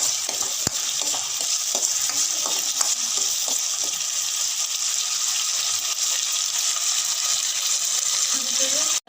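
Garlic and small onions fry in a pan for a Tamil dried anchovy curry, giving a loud, continuous sizzle broken by light spoon scrapes and taps near the start; nobody speaks.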